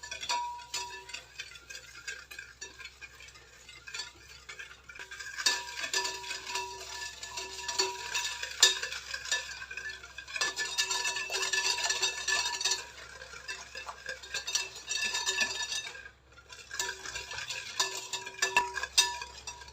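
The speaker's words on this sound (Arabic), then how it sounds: "غنخلطوا هاد العناصر بالخلاط اليدوي." An electric hand mixer whirs through cake batter ingredients flavored with orange blossom, a steady buzzing hum with a faint rattle. It runs in several stretches with brief pauses between them, and no one talks.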